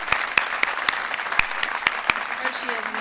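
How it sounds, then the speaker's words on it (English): Applause at a nursing gala: a room of guests claps with a few loud, distinct claps standing out near the front, and voices murmur underneath as the clapping begins to fade. "Let's give her a round of applause for this event tonight"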